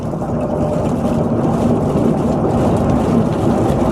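Sleet driven by a winter storm in Texas and Oklahoma, a loud, dense, continuous rush of windblown precipitation with a low rumbling roar and no voices.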